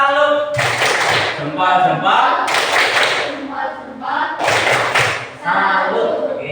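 A classroom of students claps out a salute cheer in two or three loud rhythmic bursts separated by short gaps, with voices chanting and calling along between the claps.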